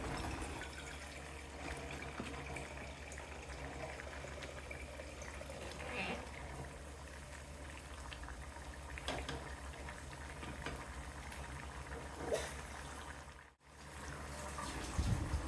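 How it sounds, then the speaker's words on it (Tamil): A pot of country chicken curry simmers down to thicken, with a steady, soft bubbling hiss that runs throughout, fairly quiet and even. "தண்ணி வத்துற வரைக்கும் இன்னும் கொஞ்சம் நேரம் கொதிக்க விடலாம்"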